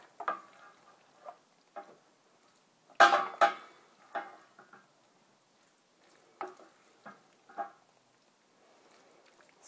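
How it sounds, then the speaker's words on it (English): Mac and cheese being stirred in a pot, giving scattered soft scrapes and clinks of a utensil against the pot at an uneven pace, with a couple of louder knocks near the start and no talking. "One last stir and we'll serve it up."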